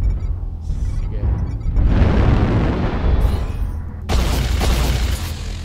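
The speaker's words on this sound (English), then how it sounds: "Oh no, we got artillery heading our way." Artillery strikes in MechWarrior Online land as heavy, rumbling booms that roll and swell across the clip, with a sharp new blast cutting in near the end and no talk.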